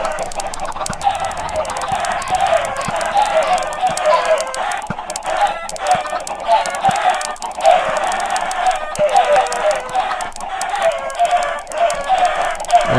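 Chickens in the Wolfden video game cluck and squawk in a busy, continuous flock chatter as they are shoved onto a fire, with sharp clicks and a voice speaking in the background.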